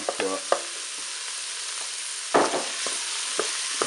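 Rice with carrots and peas stirred in a Cookeo multicooker, a steady hiss of sizzling under scattered scrapes and knocks of a spoon against the pot, close and with no talk.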